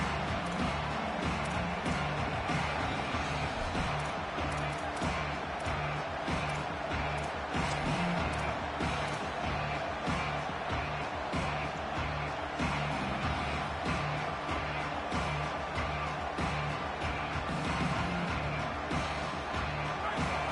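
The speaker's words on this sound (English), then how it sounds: "This crowd bringing the energy and noise early." Dense, continuous crowd roar from a large stadium, steady throughout with no individual voices standing out.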